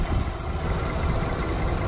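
A 3.5-litre V6 EcoBoost engine in a 2017 Ford Explorer Platinum idles with the hood open, giving a steady, even hum with a broadband rush, close and constant throughout.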